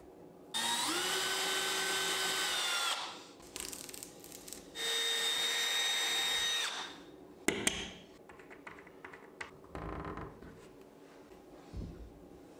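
A cordless drill fits knurled black handles onto a bathroom cabinet, with two long whirring bursts close by, then scattered taps, clicks and handling knocks of hardware in a quiet room.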